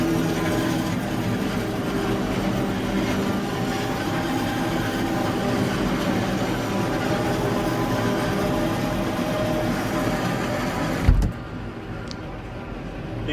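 A Claas Jaguar 860 forage harvester turns around in a maize field with a loud, steady machine rumble and clatter heard from inside the cab, ending in a brief thump and a quieter hum.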